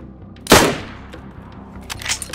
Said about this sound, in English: I'm gonna shoot him in a sec.